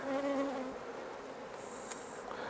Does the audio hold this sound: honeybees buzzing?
yes